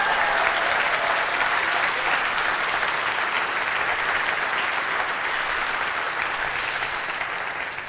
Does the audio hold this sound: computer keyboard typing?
no